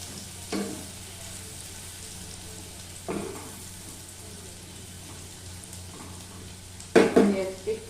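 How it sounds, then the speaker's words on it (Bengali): Onions sizzle steadily in a pan and are stirred now and then, with three short scraping bursts of the spoon, the last and loudest near the end; no one speaks. "পেঁয়াজটা একটু নেড়ে নিই,"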